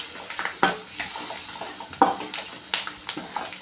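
Okra frying with chili powder stirred in a pan: scraping spoon strokes and clinks recur over a soft background sizzle, with sharper knocks near the start and middle.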